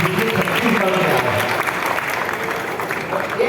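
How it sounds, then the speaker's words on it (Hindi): Steady audience applause at a teachers' honour ceremony, dense continuous clapping from a crowd in a hall, sustained for several seconds. "जोरदार तालियां इनके लिए"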